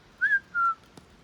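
A person imitates a whistle heard in the woods with two clear whistled notes, the first rising and falling, the second held flat, followed by a faint click.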